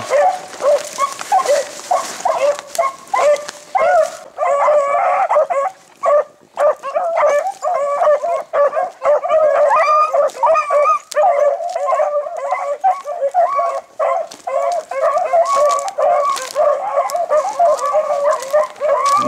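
Several dogs on a run bark, yip and howl in continuous excited bursts, loud and close, forming a dense chorus with whimpers throughout.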